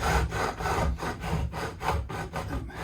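A file rasps back and forth across guitar fret ends, beveling them, in a steady rhythmic stroke of about five passes a second, close and fairly loud with no talk.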